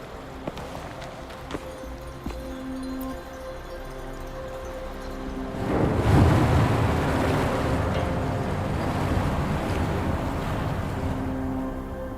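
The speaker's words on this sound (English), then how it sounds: "The water level just dropped again." A deep rushing wash of draining water in a video game, swelling from a low steady hum into a louder surging roar that holds and slowly eases, with no voices.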